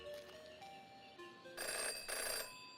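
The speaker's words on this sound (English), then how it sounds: "In her short time as a detective, Jenny had learned never to ignore a ringing phone." A telephone rings in the detective adventure game Jenny LeClue, a faint electronic trill with tonal beeps building to two louder ringing bursts.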